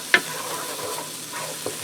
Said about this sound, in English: I'm just going to give that a quick stir.